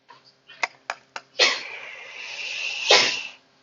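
A person sneezes loudly and close, following a few short catches of breath, then gives a second sneeze a moment later, in an indoor classroom setting.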